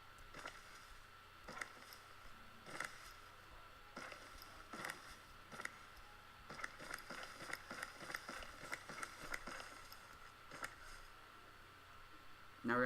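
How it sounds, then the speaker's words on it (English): Running footstep sound effects play in Unreal Engine through FMOD Studio as a soft, quick, irregular patter of steps. They stay fairly faint and continue for several seconds. "the running sound effects are synced with the footsteps"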